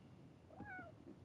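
A single short meow from a house cat rises and falls once, faint and somewhat distant against a quiet background hum.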